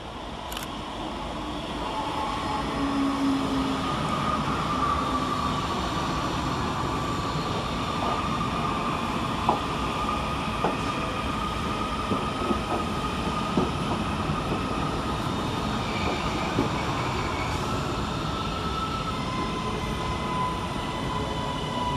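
Northern Class 331 electric units 331014 and 331013 pass through Deansgate station in Manchester, making a steady, loud rumble of rolling wheels and motors that lasts throughout with no voices.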